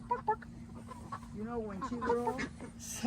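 A pet chicken giving short clucks and throaty rising calls, near and fairly loud, with people talking softly around her and a steady low hum underneath.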